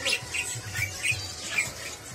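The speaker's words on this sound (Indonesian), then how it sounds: "Nah ini sebelahnya ada pelanduk semak ya bos." Pelanduk semak bird calling inside a bird shop, a series of short, fairly faint chirps and squawks repeating every half second or so over a soft background murmur.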